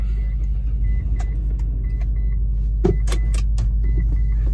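A Gen 3 Mitsubishi Montero engine rumbles steadily and close by, with a brief louder surge partway through and light clicks and rattles over the idle.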